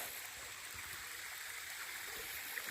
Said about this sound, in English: Got water coming in there, through there